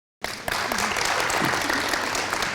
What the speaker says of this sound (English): I think a round of applause would be quite great.